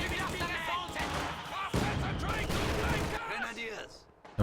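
Mortar barrage from a WWII video game match, a dense run of explosive blasts and gunfire that fills the clip at close, loud level, with a louder burst partway through.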